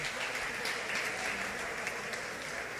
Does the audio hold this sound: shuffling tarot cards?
no